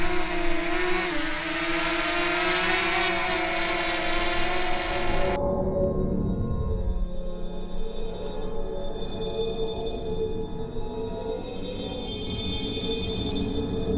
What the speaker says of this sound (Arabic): هلا رح نطلق الطائرة لفوق الغابة